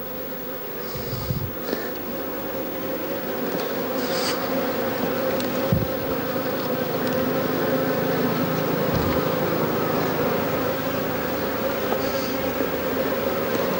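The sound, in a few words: honeybees buzzing around a hive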